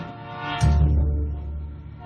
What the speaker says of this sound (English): they yelled that there was a train coming